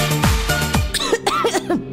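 Coughing in a cough medicine advert: a run of harsh, close coughs with throat clearing, a few bursts in quick succession.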